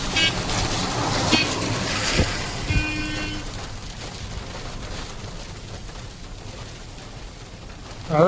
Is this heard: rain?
yes